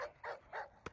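A dog barks at a car thief during an attack, three loud close barks in quick succession followed by a sharper yelp.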